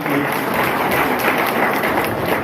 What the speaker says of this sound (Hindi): सोनम मैडम, ओपी सर, महान केसरी सर और आदरणीय ग्रेट गुरु रविकांत पांडे सर के लिए पर शानदार ताली